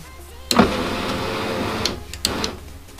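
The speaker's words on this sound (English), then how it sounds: "now it's just time to check that the motor and mechanism work" A Mazda MX5 NB power window motor and regulator run with a close, steady mechanical whir and a few clicks and knocks at the start and near the end of travel.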